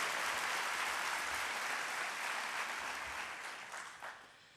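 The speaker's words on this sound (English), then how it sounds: "let us give her a round of applause" Broad, steady applause from a university convocation audience in a large hall, dense and even throughout, fading slightly toward the end with no one speaking over it.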